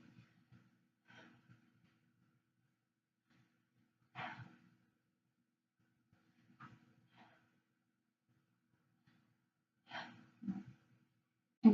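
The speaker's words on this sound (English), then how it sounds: "So nice big deep breath." A patient takes slow, deep breaths during a chest and lung examination, several soft, separate inhale-exhale sighs spaced a few seconds apart in an otherwise quiet room.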